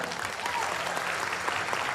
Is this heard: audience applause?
yes